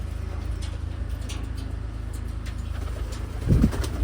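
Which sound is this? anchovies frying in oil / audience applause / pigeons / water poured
pigeons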